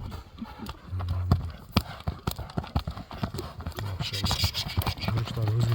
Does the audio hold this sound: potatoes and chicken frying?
no